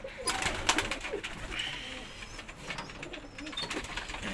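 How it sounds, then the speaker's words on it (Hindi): Domestic pigeons coo softly amid a steady rustle and bursts of wing flapping as they push to leave their coop in the morning, several birds close by, busy and continuous throughout. "आज आप देख सकते हैं कबूतर बाहर निकलने के लिए कैसे फड़फड़ा रहे हैं।"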